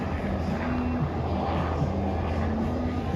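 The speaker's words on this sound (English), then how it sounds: "Oh, there goes one of the helicopters." A steady low helicopter rotor drone passing overhead at a car meet in Bradenton, Florida, constant and moderately loud with a faint rumble throughout, no voices.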